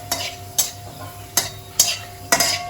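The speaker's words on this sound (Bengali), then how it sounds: "এবার একটু এটাকে নাড়াচাড়া করে নিয়ে এর থেকে একটা যেই সুন্দর গন্ধ বেরোবে" Fenugreek and radhuni seeds sizzling in hot oil while being stirred, five sharp scraping strokes of a spoon against the pan over a steady low fry, close and clear with no talking.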